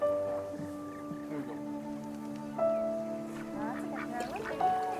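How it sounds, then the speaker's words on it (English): Ducks quack in short, repeated bursts close by while bread is being offered to them, with several people talking and a voice underneath. "It's a duck."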